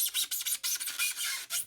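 Knife cutting into PIR foam board, a close, harsh scraping rasp in a quick series of short strokes.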